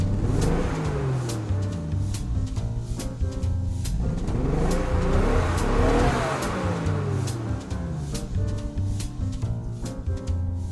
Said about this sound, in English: That robust sound is of the Toyota Mark II Tourer 5, and it won't be the last time you hear it.